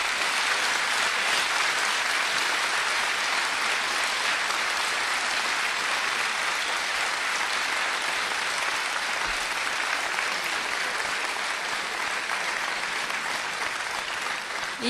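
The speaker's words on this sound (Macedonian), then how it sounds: "на крајот од денот, ја живеам за овој ваш аплауз" Sustained audience applause at a stand-up comedy show by Vesna Bejbe Petrushevska, a dense, steady wash of clapping hands that stays loud and even for the full length before tapering slightly at the very end.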